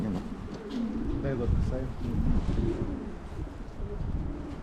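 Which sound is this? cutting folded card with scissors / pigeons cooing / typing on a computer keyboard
pigeons cooing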